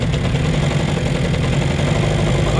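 A Mercury XR 10 outboard boat engine runs steadily and loud at close range, its engine held on the throttle through a carburetor idle problem, with a continuous buzzing drone and no voices.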